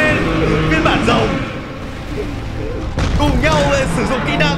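Dragon-form Titans in a Skibidi animation unleash a fire-breathing attack, a dense roaring blast with booming bursts that fills the whole stretch, loud and continuous, with a voice talking over it.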